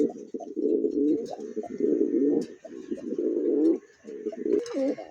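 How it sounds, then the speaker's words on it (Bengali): Large Danish pigeons coo close by in repeated low, throaty phrases, one after another with short pauses between them and no voices. "দেখতে পাচ্ছেন ড্যানিশ কবুতর"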